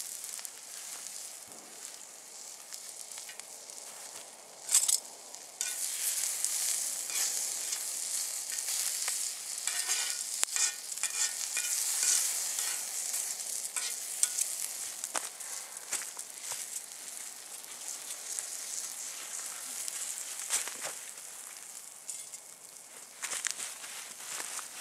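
Sliced potato and onion fry in oil over an outdoor campfire in the Australian bush, giving a quiet, continuous sizzle with occasional pops and crackles and a few soft handling sounds.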